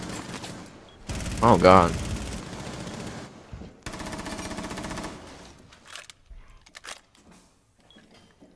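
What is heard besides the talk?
gunfire in video game Rainbow Six Siege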